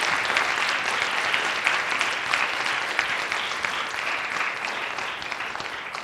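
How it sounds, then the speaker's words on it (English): Steady audience applause for the speakers at a public health lecture on the causes of major birth defects, dense and continuous clapping throughout with no voices over it. "I'd like to ask for another round of applause, real or virtual,"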